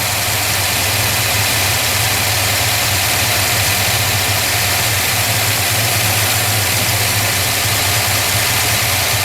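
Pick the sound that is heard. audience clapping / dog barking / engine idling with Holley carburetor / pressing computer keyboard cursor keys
engine idling with Holley carburetor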